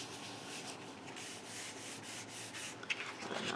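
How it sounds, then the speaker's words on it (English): A folded cardboard box seam is rubbed down firmly with a burnishing tool, giving a steady, close scraping friction that runs throughout, with one brief tap near the end. "I'll burnish those down so that I know they're good and stuck"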